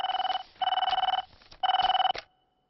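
A telephone ringing loudly and close, three trilling bursts of electronic bell tone separated by short gaps before it cuts off.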